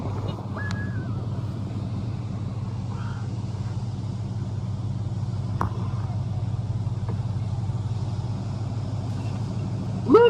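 Honda Ridgeline truck engine idling and pulling along off-road, a steady low pulsing rumble with faint wind buffeting and a few brief clicks and squeaks.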